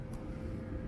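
A steady low rumbling drone from a factory-fitted Webasto parking heater running, constant and unchanging, heard from close by inside a campervan.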